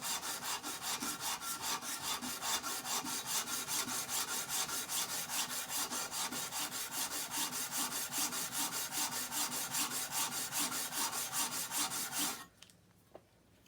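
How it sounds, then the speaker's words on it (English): Coarse-grit sandpaper scrubs hard over a rusty Stanley rabbet plane in quick, steady back-and-forth strokes, loud and close, continuing for about twelve seconds before stopping abruptly, followed by a brief faint knock. "I'm going to go a little more with this coarse grit, but not much more."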